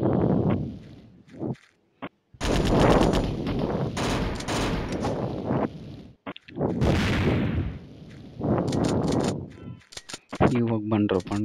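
Loud, rapid bursts of gunfire from the Mini Militia shooting video game with a short gun, firing in repeated volleys with brief gaps, and a voice talking at times.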